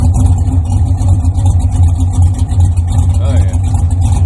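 A 1970 Chevrolet Impala with a 406 small-block V8 runs at a steady, loud, close idle, its low rumble continuous throughout without any throttle blips.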